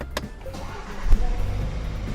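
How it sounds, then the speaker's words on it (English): A 2018 BMW 730Li starts up: after a quiet cabin with a few small clicks, the engine catches with a soft thump and settles into a steady low hum close by. "So my foot is on the brake. Let's start the car."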